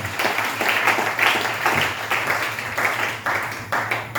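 A church congregation bursts into sustained applause to acclaim the Lord, many hands clapping together in a dense, steady wash that swells and dips slightly over a few seconds, with no speech over it.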